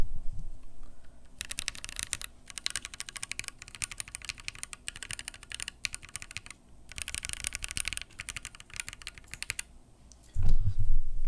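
Fast mechanical typing on a Keychron Q1 keyboard fitted with thick GMK keycaps, two long bursts of dense clacking rows with a short pause between, close and clear, ending in a brief louder thump.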